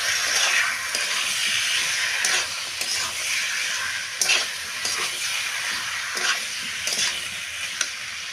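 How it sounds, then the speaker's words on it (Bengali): Meat browning in hot oil in a pan, a steady loud sizzle broken by repeated scraping strokes of a spoon stirring it, with no voices. "মাংসটা এতে দিয়ে দেবো, দিয়ে আবার ভালো করে কষিয়ে নেবো যতক্ষণ না তেল ছাড়ে।"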